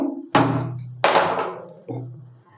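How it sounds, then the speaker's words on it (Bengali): A karahi wok is set down on a lit gas stove: three heavy, close thunks, each ringing briefly before dying away, with no talking. "কড়াইটা বসিয়ে দিলাম।"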